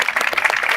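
Audience applause closing a debate, a steady dense patter of many hands clapping together at moderate level for a brief moment.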